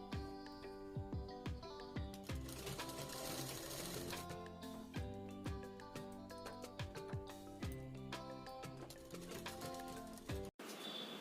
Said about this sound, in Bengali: চেনটাকে প্রথমে খুলে বডির কাপড়ের সমান সমান ধরে এক চাপে সেলাই দিয়ে নেব।